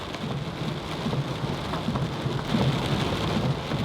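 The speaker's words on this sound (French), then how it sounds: "nous avons connu notre première tempête de pluie tropicale au Costa Rica. Il n'a fallu que quelques minutes pour inonder les routes." A tropical rainstorm in Costa Rica pours down steadily and densely, with low thunder rumbling beneath the constant hiss of rain and no voices.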